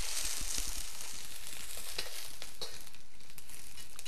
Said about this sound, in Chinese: 等蒜头的香气出来之后，放入百叶豆腐， 略微拌炒之后